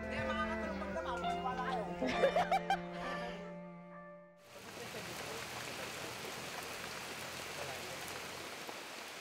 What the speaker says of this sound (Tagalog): Kinabukasan, ginising kami ng patak ng ulan.